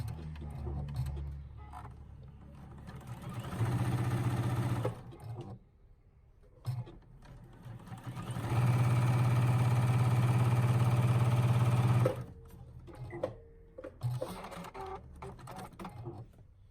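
A sewing machine stitching a quarter-inch seam on a quilt block, running in two steady bursts of about a second and four seconds with quieter handling of fabric between them.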